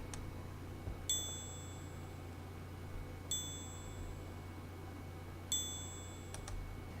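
Chimes struck three times at roughly two-second intervals, each a bright ringing hit that decays quickly, clear and isolated over a faint background hum.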